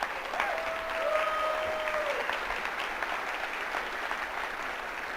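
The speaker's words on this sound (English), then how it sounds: "You can clap for that." A conference audience applauds, a dense, steady wash of clapping at a moderate distance that continues for several seconds without fading.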